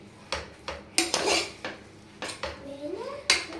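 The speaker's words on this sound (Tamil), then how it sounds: "நல்லா இதை உடைக்காமல் க்ளீனாக மெதுவாக கிளறி விடுங்க" Mushroom biryani is gently stirred in a metal pot, producing a series of close, sharp spoon clanks and scrapes at an irregular rhythm, with a faint tonal sound near the end.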